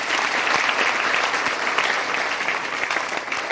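An audience at a ULIP program in Morena, Madhya Pradesh claps loudly and steadily, a dense, close wash of many hands that keeps going without a break.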